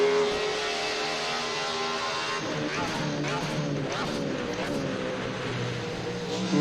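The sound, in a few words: BMW E36 Judd V8 race car engine, Assetto Corsa video game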